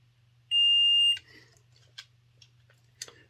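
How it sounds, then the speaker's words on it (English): Multimeter continuity beep while testing the wheels of a Hornby Class 37 model locomotive, one clear high tone lasting about half a second, followed by soft clicks and light handling noises. "a wee continuity test just to make sure before I put it on the test track"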